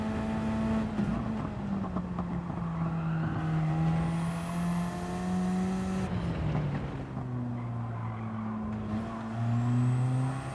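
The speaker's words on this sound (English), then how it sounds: "Just rev this out here again." A car engine in Gran Turismo 7 revs steadily with a sustained, clear harmonic drone that rises and dips in pitch, easing down around the midpoint and then building again. It runs alone, with no voices.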